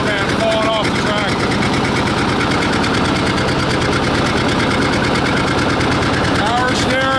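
Loud, close engine roar of an 820 utility vehicle revving and pulling on a property track, a dense continuous drone with rapid mechanical pulsing throughout.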